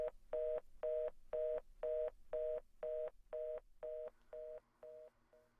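A telephone tone from the video game Silent Hill 3 repeats in a steady series of about a dozen evenly spaced electronic pulses, loud and clear, ending in shorter, fainter pulses as a low hum enters.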